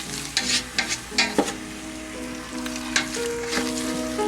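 Food sizzles steadily in a frying pan as it browns on a home cooking show, with irregular bursts of a utensil scraping and stirring through it at close range.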